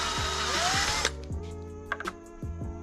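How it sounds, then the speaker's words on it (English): A power drill whirs in short bursts, enlarging bolt holes in an Audi A6 RS6 bumper lip with a slightly bigger bit, loud and close with brief spin-ups and stops. "I'm going to drill them out a little bit."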